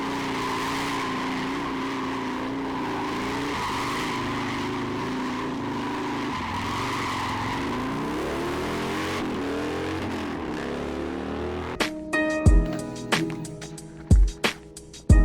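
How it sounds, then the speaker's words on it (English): Harley-Davidson motorcycle drifting, a loud continuous engine drone and tire skid with wavering pitch, followed near the end by sharp knocks and clattering bursts. "Today we're learning how to drift like a freaking maniac on a Harley Davidson."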